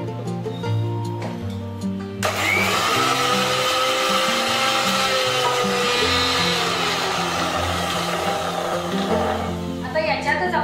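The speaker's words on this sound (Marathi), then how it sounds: "हे आपण वाटून घ्यायचं आता." Electric mixer grinder blending garlic and ginger into a paste for Kolhapuri pandhara rassa, starting suddenly with a loud, steady high whine that runs continuously in a home kitchen.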